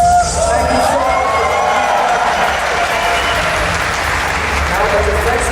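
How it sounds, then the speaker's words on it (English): A large crowd at a DreamHack Winter 2010 StarCraft II grand final cheers and applauds steadily throughout, a dense, loud roar with scattered whoops and a voice talking over it. "you guys cheer every 5 seconds"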